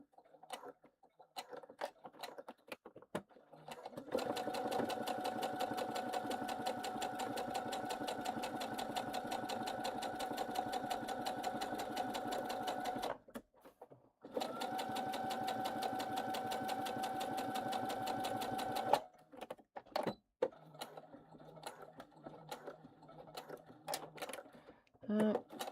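A sewing machine stitches fabric in two long, steady runs with a short pause between them, its close mechanical whir and rapid needle rhythm sounding alone, with quieter handling clicks before and after.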